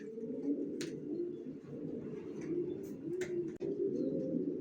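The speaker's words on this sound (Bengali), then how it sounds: "ভিউয়ার্স দেখতে পাচ্ছেন এখানে এক জোড়া অ্যাডাল্ট কবুতর দেখাচ্ছি" A pair of adult racing pigeons cooing, soft low repeated coos in a steady rolling pattern, close and fairly quiet, with a few brief higher chirps over it.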